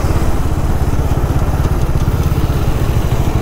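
A Bajaj Dominar 400 motorcycle engine runs steadily with a loud, close, throbbing single-cylinder thump and a mechanical rattle, heard alone without talking.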